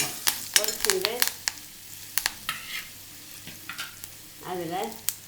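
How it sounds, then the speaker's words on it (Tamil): Curry leaves fry in oil in a pan for ivy gourd fry, giving a soft sizzle with scattered pops and stirring scrapes, while someone speaks intermittently over it. "செவந்தோடனே கருவேப்பிலை அதையும் நல்லா பொரிச்சுக்கோங்க."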